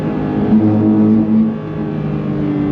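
A 2022 Porsche 911 GT3 flat-six engine revs hard and high toward 9,000 RPM, a loud sustained whine climbing in pitch, close by with no voices.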